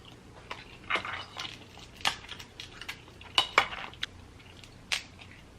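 A utensil stirs butter sauce in a pot for a seafood boil, giving scattered sharp metallic clinks and taps at an uneven rhythm over a quiet background.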